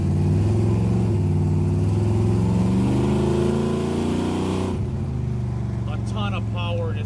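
A 1972 Chevrolet Camaro SS big-block 454 V8 runs loud and close with a deep, throbbing idle that steps up in pitch, while someone talks over it.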